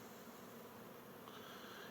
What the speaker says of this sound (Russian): Сейчас дождик прекратился, вышло солнышко и пчелы гудят.